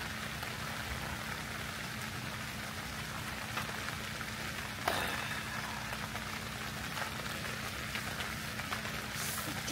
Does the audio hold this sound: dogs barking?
no